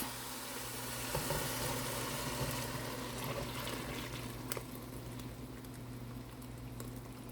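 Chicken broth poured into a cooking pot for chicken macaroni soup, a steady liquid pour with a bubbling, boiling wash and constant low hum throughout, no talking.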